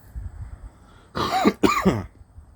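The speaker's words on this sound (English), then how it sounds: "sorry, I had to clear my throat" A person clears their throat twice in quick succession, short harsh rasps close to the mic after a moment of quiet.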